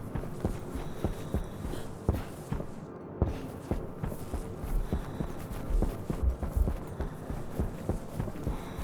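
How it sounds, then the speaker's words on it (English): Footsteps in the video game Stationeers, playing while the character flies through the air: a steady, rhythmic run of soft thudding steps over a low ambient hum, continuing for several seconds without speech. "Why does it sound as if the footsteps are hitting the ground when I'm flying in the air?"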